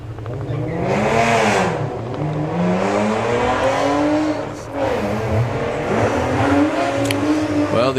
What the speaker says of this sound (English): the inimitable sound of John Crawford's car chasing down Reese